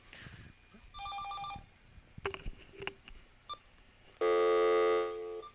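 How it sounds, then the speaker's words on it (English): A telephone rings on a live call-in show, with bursts of tones between electronic beeps and clicks. A loud, sustained ring tone near the end cuts off abruptly. "It looked like a full long ring."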